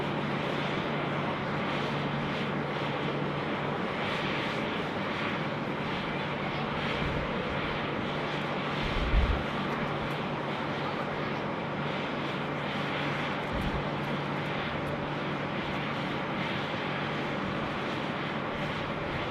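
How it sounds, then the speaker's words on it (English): A Boeing 747-8 at Sydney Airport gives a steady, loud engine roar that holds evenly throughout, with a low constant hum and a couple of brief thumps. "But this one is the 747-8, slightly longer, slightly wider."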